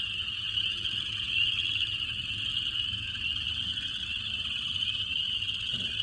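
Boreal chorus frog calling in a Missouri spring setting, a steady sustained trilling chorus running throughout alongside insect-like buzzing, moderately loud with no talk.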